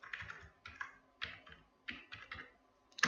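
Computer keyboard typing while filling in an Excel inventory spreadsheet, a quiet series of clustered key clicks in short uneven bursts with pauses between them, ending in a sharper tap.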